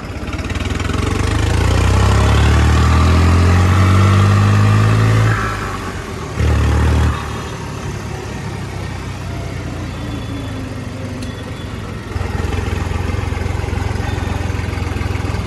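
A New Holland 3630 Special Edition tractor engine revs hard up close, climbing in pitch, then drops back to a lower idle after a brief burst and rises again toward the end, loud and alone with no talking.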